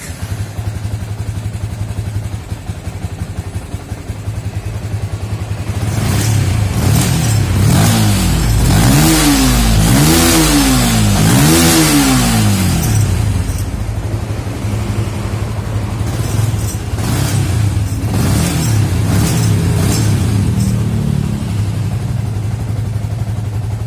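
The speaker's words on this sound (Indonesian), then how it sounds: "ini kita tinggal nyalakan aja." A Yamaha Vixion motorcycle engine starts and idles steadily, then is revved several times in quick rising and falling pulls before settling back to idle, loud and close.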